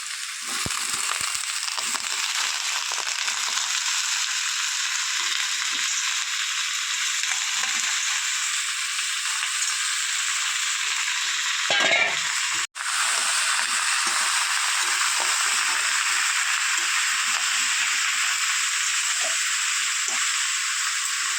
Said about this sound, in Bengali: এখন আমি এর মধ্যে দিয়ে দেবো ডুমডুম করে কেটে রাখা শোলা কচু, দিয়ে দুটোকে আমি একসাথে ভাজতে থাকবো